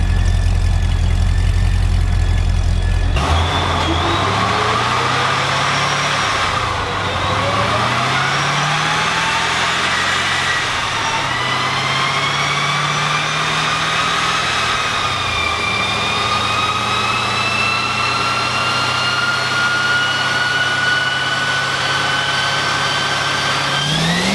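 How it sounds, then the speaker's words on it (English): Jeep engine fitted with a hemi cam, running loud and close, with a brief rev at the start and then a steady, slightly lumpy idle whose pitch drifts up and down over time. "as you guys can hear behind me, we got our Jeep project up and running"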